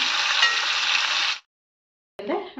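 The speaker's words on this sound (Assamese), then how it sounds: "সেইখিনি অলপ দেৰি একদম ৰঙচুৱাকৈ ভাজি থাকিম মই" Meat frying in a pan gives off a loud, close, steady sizzle that stops abruptly partway through and then resumes after a short silence.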